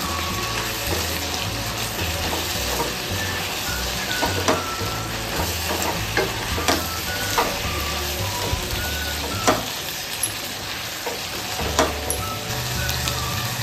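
Garlic and ginger paste fries in a pan for a Nepali ridge gourd curry, a steady close sizzle broken by repeated scraping clicks as it is stirred, with no talking.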